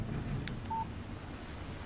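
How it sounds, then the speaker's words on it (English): A short electronic beep sounds once as a phone text-message alert in Alan Wake Remastered, a small tone over a steady windy hiss with no speech. "Text message from Barry."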